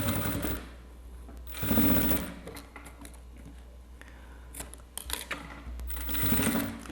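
Sewing machine stitching through milk carton board, running in three loud bursts of rapid needle chatter, near and alone, with quiet handling clicks and rustles between runs.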